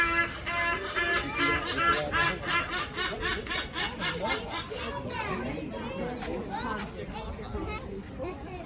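A silvery-cheeked hornbill at a zoo gives loud, rapid, repeated braying calls that sound almost like cackling laughter, continuing steadily and close by.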